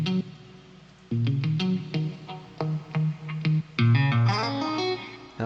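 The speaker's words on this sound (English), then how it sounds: "That's the clean guitar sound, but with all those different effects on it." A clean electric guitar run through phaser, chorus and reverb plays a short melodic phrase of plucked notes and chords, shimmering and sustained, with brief gaps between phrases.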